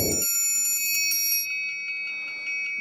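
A bright metallic bell rings with rapid repeated strikes in the game Marvel Contest of Champions, its shimmering tones lingering and slowly decaying; a brief low thump at the very start.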